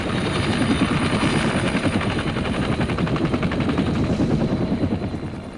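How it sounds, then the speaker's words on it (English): A Vietnam War helicopter thumps steadily with rapid rotor chop and engine whine, loud and continuous throughout with no voices. "The helicopter provided unprecedented mobility for our troops."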